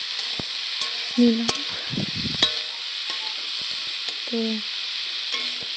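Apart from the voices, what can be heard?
radish frying in a kadai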